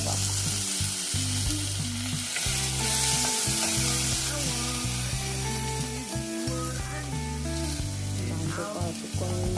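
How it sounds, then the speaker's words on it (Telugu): Tomatoes and curry leaves sizzle and fry loudly in a hot pan for an Andhra fish semi-gravy, a steady crackling hiss broken by stirring scrapes, close and continuous with no talk. "ఇప్పుడు నేను టమాటోస్ యాడ్ చేసుకుంటున్నాను. కొంచెం కరివేపాకు,"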